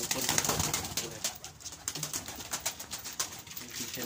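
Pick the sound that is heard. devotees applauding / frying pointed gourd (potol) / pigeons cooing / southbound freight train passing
pigeons cooing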